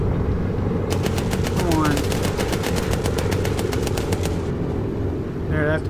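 Rapid bursts of machine-gun fire rattle from a bomber's turret in the Bomber Crew video game, a steady fast stream of shots over engine drone, with a voice speaking briefly.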